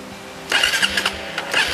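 A newly released motorcycle's engine starts with a sudden mid-pitched burst, then sputters and catches in uneven pulses, close by and without talk.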